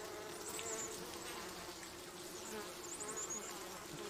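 A dense swarm of Japanese honeybees buzzes in a continuous, even drone, fairly faint and steady throughout with no talking.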